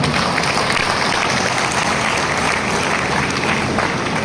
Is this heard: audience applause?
yes